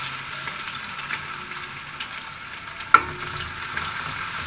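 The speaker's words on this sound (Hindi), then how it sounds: "प्याज को हम थोड़ा सा फ्राई करेंगे" Onions fry in hot mustard oil with a steady, close sizzle and soft stirring scrapes, and one sharp clack of a utensil partway through. No voices are heard.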